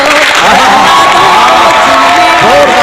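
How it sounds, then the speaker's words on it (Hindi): An audience at a mushaira, an Urdu poetry recital, applauds and cheers in a loud, dense roar of clapping and shouting voices that holds steady for the whole stretch. "तालियां बज रही हैं आपके लिए"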